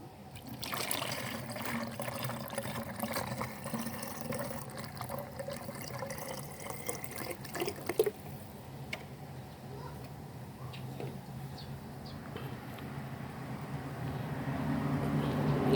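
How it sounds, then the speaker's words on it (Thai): Liquid fertilizer poured into a spray bottle, a steady trickling and splashing stream that runs close by for several seconds and then fades into quieter dribbles and faint handling noises, with someone talking over it. "เราก็จะเอาเทใส่ ขวดฉีดนะครับฟอกกี้นะครับ"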